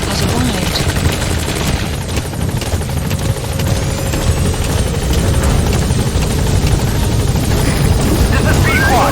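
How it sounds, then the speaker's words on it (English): A support helicopter in a Metal Gear Solid V game arrives with a loud, steady rotor roar and engine whine that fills the whole stretch, with a voice speaking over it. "Support helicopter has arrived."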